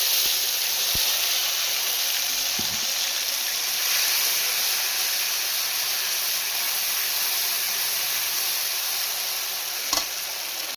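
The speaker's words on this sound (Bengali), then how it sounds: "দেখুন কালি জিরে আর 2টো তেজপাতা দিয়ে দিচ্ছি" Nigella seeds and two bay leaves sizzle in hot oil for a hilsa fish curry, a loud, steady, close frying hiss running unbroken throughout, with one faint clink near the end and no talk.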